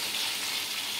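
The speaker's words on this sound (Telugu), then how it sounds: "ఇవి కూడా అలాగే ఫ్రై చేసుకోవాలి" Chicken leg pieces fry in a pan with a steady, dense sizzle that fills the whole moment, close and even, with no voices.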